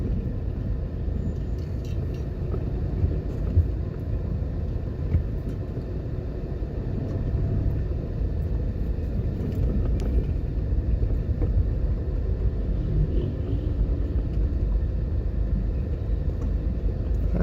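Afternoon road traffic on East Kings House Road in Jamaica, a steady low rumble of passing vehicles heard from inside a moving car, continuous and fairly loud, with no talk.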